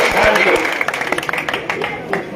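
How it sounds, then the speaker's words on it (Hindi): At an outdoor neighbourhood gathering to honour a community representative, a crowd breaks into scattered, uneven clapping that picks up over a couple of seconds. Voices and crowd noise carry underneath. "बेजोरदार तालियों से आपका सम्मान किया जाए।"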